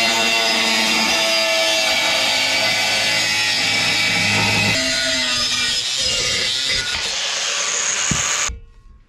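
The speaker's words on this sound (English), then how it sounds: "We'll just try to drill it." A power drill grinds steadily into the metal motor cover of a flail mower with a continuous whining, rasping tone, close by, before cutting off abruptly near the end.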